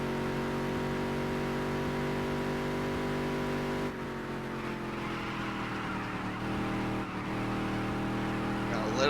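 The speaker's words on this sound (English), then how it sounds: "it just likes to make that really bad wheel noise through the corners" A race car in the NASCAR Dirt to Daytona video game drones with a steady, loud engine tone while the tires grind and squeal through corners, with someone talking over it.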